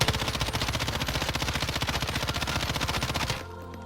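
An M13 rifle fires in the video game Warzone as a rapid, loud burst of automatic gunfire lasting over three seconds, then stops abruptly, leaving faint background sound.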